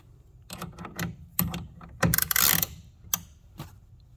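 A ratchet wrench tightens a clamp on a GatorTrax retractable tonneau cover fitted to a 2022 Chevy Silverado Trail Boss, giving close, sharp bursts of clicking in irregular runs with a longer rattling stretch partway through.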